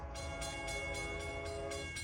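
A passenger train runs past on the Montauk Branch with a steady, close rumble and rhythmic wheel clatter, and a tonal hum from the locomotives sits over it.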